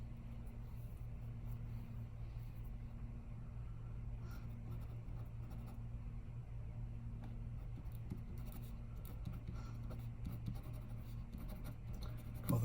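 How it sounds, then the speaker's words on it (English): A pen scratches out a title, signature and date on a finished watercolor painting, making faint, close, intermittent scratching strokes over a steady low hum. "I forgot to write the title and sign it and date it."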